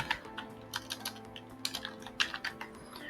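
Steady typing on a computer keyboard, a run of quick, light key taps in irregular bursts with short pauses, close and fairly quiet against a faint background hum, no voices.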